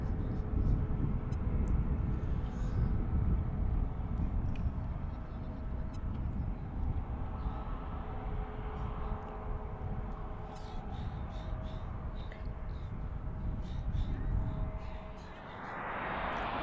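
A jet airliner passes near Reagan National Airport at Gravelly Point, Washington, in a loud, broad roar that swells and lingers for many seconds. Crows caw faintly and a voice speaks beneath it.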